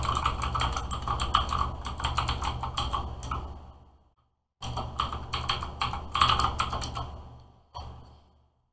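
Fingers type quickly on a computer keyboard, entering an email address on a college class registration page. The key clicks are close and continuous, break off for a short pause, then resume in a second burst, with no talking.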